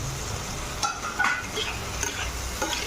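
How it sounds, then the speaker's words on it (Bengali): Spices sizzle steadily in a hot pan while cooking with potatoes and green banana, with a few brief stirring scrapes and clinks over the continuous frying hiss. "তো দেখো মশলাটা আমার ভাজা ভাজা হয়ে এসছে"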